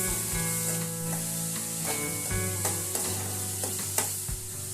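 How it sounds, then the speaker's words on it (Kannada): Finely chopped capsicum and tomato fry and get stirred in a pan for street-style Mumbai pav bhaji, a steady close sizzle broken by regular scraping strokes of the spatula, with no voices. "ಸಣ್ಣಗೆ ಹಚ್ಚಿದ ಕ್ಯಾಪ್ಸಿಕಮ್ ಹಾಕಿ ಫ್ರೈ ಮಾಡಿ"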